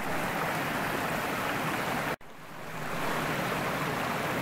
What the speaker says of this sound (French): Alors, ma chère Alexandra, j'ai trouvé le point haut de cette cascade qu'on voit en bas arriver dans la Meuse à Lesfours et qui passe là, tu vois.